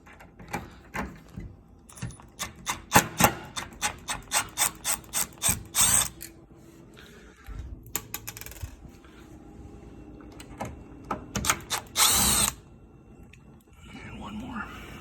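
Screws are unscrewed from the door of a Sub-Zero IS-24 wine cooler in bursts of rapid ratcheting clicks and metallic rattles, close up, with people talking in between.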